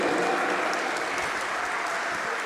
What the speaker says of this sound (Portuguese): Agora uma salva de palmas para todos vocês